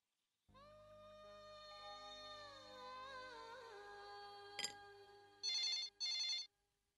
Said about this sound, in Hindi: फोन बजने दो कोई फोन नहीं उठाएगा।